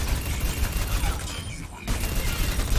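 Dense, rapid gunfire from a weapon in a competitive shooter video game, loud and sustained, dropping out briefly for a moment before the shots resume.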